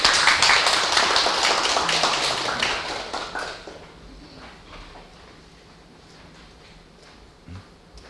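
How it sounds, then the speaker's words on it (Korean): An audience applauds at a church gathering welcoming a speaker, loud dense clapping at first that thins and fades out within a few seconds, leaving quiet room tone. "박수로 환영하겠습니다."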